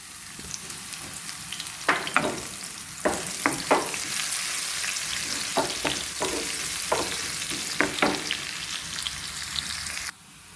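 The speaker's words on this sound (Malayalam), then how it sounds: "ഒന്ന് ഫ്രൈ ചെയ്യുക അപ്പോൾ അതിന് വെളിച്ചെണ്ണ ഒഴിച്ചിട്ടുണ്ട് ഫ്രൈ പാനിൽ എന്നിട്ട് കുറച്ച് ഒരു പത്ത് പീസ് ചെറിയ ഉള്ളി വെട്ടിയിട്ടുണ്ട്" Ten small chopped onions frying in coconut oil in a frying pan give a continuous crackling sizzle, with occasional sharp stirring scrapes and pops, close up and without voices.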